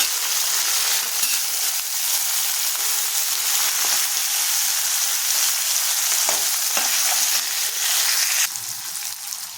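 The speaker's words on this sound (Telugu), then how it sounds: "చూడండి, తాలింపు వేగిపోయింది కదండి." Loud, continuous crackling sizzle of tempering spices with curry leaves and coriander frying in hot oil, with a few stirring scrapes, easing slightly near the end.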